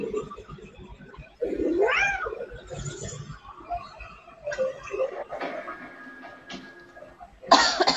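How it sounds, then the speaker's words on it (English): A cat gives several odd, warbling meows at close range, rising and falling in pitch, interspersed with throaty cough-like sounds and a louder burst at the end. "Never heard a cat meow like that."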